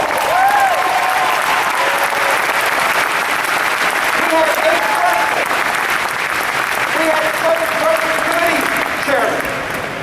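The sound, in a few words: convention crowd applause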